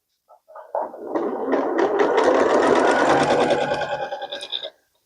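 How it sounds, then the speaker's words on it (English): A sewing machine stitching a pixel quilt, one continuous close whirring run of about four seconds that starts quickly and stops abruptly, with no talk. "we're done for the first round of sewing"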